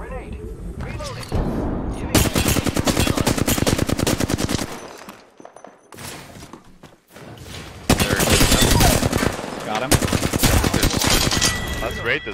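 Gunfire in Apex Legends ranked play: long bursts of rapid automatic shots in heavy loud stretches, broken by short lulls, with player voices talking over the action.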